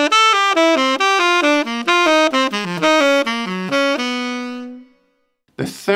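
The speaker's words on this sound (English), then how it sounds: "Now here's that second segment played faster." A saxophone alone plays a fast, flowing lick, a rapid run of bright, reedy notes that ends on a sustained tone and fades, followed by a brief noisy burst.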